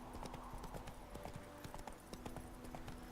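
Horse hooves clip-clop at a steady trotting rhythm in The Witcher 3: Wild Hunt video game, set against dense ambient game sound with a faint low hum.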